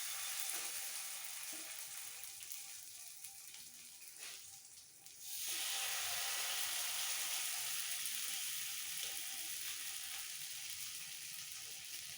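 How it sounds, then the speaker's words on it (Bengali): Parshe fish coated in masala fry on a hot tawa, giving a steady, dense sizzle throughout. It dips briefly midway, then surges back louder as more pieces go on, with faint stirring clicks beneath. "তাওয়া খুব ভালোভাবে হিট হয়ে গেছে এবার মশলা মাখানো মাছগুলো এক এক করে সাজিয়ে দেবো"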